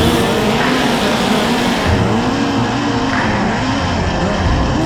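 Race cars roar around the indoor dirt track at the Chili Bowl, a dense wash of engines whose pitch rises and falls as cars pass close by, loud and continuous over crowd ambience.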